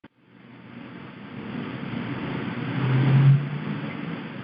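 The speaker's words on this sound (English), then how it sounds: "I could hear like cars speeding by." Cars speed by outdoors, a rising engine rush that builds to a louder pass near the end and then eases, heard alone without talk.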